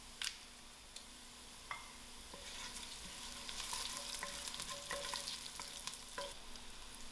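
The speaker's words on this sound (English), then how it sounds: "I'm going to add in my whole spices and my dry chilies to fry out" Whole spices and dry chilies fry with softened onions in a pot for a spicy dhal, making a low, steady sizzle. Sharp ticks and scrapes of stirring punctuate it, with no talking.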